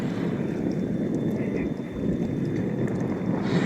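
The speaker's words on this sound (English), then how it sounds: "I'm outside in the wind, and it's rather chilly out here." Chilly wind blowing outdoors, a steady, full roar buffeting the microphone, with slight swells and no break throughout.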